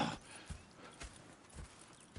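Hooves clip-clop softly in Red Dead Redemption 2, a few spaced, muffled hoofbeats from horses at a relaxed walk, faint and fairly close, with no talking over them.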